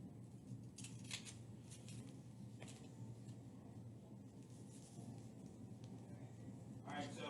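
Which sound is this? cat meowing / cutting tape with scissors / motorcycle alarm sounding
cutting tape with scissors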